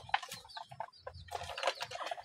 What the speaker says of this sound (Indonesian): Dan di sana juga masih ada ayam yang masih mengengkrami ataupun bertelur.